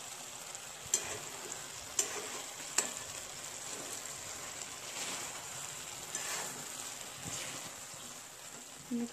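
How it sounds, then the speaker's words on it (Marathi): Manchurian balls stirred into sauce in a pan, with a soft steady sizzle and a few distinct scraping clicks from a spoon, fairly quiet and without talk. "त्यामध्ये आता आपल्याला मंचुरियन टाकायचे"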